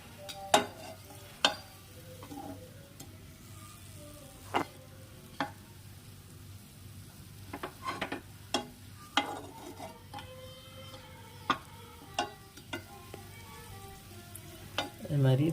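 Asafoetida fries in sesame oil, a faint steady sizzle broken by scattered sharp clicks and taps of a utensil against the pan, close and quiet, with no talking.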